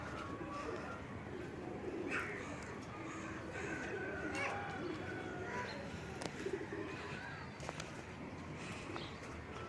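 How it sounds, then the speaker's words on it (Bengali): Racing pigeons coo softly and come down to land, low repeated coos and faint wing flutters at a distance against outdoor background noise, with someone speaking now and then. "কবুতর এখন নামতেছে দুইটা"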